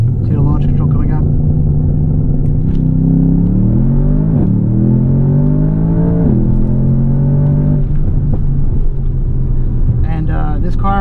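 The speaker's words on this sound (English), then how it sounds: "do a little race start. Foot hard on the brake, see the launch control coming up." A Mercedes-AMG S63 Cabriolet does a launch-control race start, its engine droning steadily, then rising in pitch through several gears in a loud, continuous pull with brief dips at each shift.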